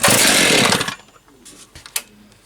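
A brand-new Stihl chainsaw engine, an MS 261 C or MS 391, roars loudly at close range for about a second and then cuts off, followed by faint clicks and handling sounds.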